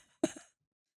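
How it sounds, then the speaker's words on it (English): A single short cough, close and fairly soft, followed by silence. "Cough it out, babe. Get it out."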